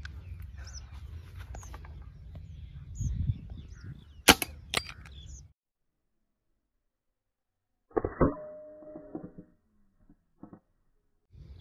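A Precihole air rifle fires in a field setting, giving a sharp, loud report around the middle of the stretch, followed by a few faint thuds and clicks. Outdoor ambience and a spoken exchange come before it, then a pause, and later a short burst of talk.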